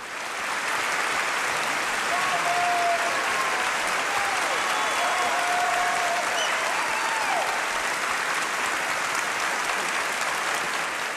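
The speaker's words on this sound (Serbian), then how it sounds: "Aplauz je trajao punih 12 minuta." Sustained applause from a large audience honouring Charlie Chaplin's Oscar for his contribution to film in 1972, a dense, even wash of clapping that holds steady throughout.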